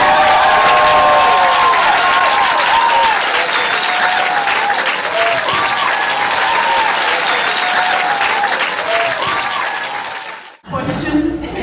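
A stand-up comedy audience breaks into sustained loud applause with scattered cheers, lasting about ten seconds before cutting off abruptly.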